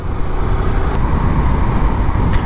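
Motorcycle riding through road traffic at night toward the beach, a continuous rumbling roar of engine and passing vehicles, close and fairly loud, with no talk.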